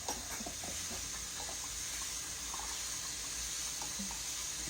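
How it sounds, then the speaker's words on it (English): Tap water runs steadily into a pot to cool freshly blanched peas, a continuous close hiss and splash with small gurgles and no talking. "a little more water in there and cool that part off."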